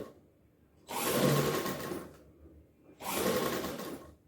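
A sewing machine stitches fabric during a home tailoring lesson, running in two close, steady bursts of about a second each with a short quiet pause between them.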